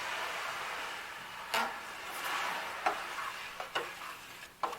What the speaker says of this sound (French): On peut même entendre la réaction chimique, c'est assez particulier.